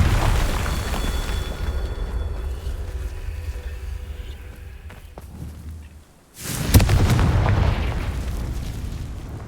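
A Confringo fire spell explodes in the video game Hogwarts Legacy, a loud booming blast with rumbling low end that fades, then a second sharp burst erupts and roars on.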